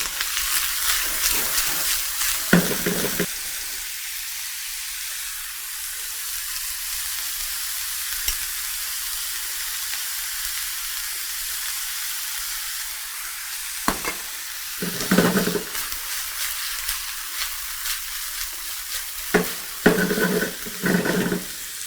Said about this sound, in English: Remember, this is sauteing.